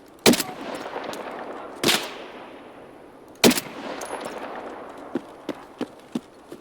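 Loud bursts of gunfire in the Escape from Tarkov video game: three heavy shots spaced well apart, followed by a quick run of lighter, evenly spaced clicks or shots toward the end.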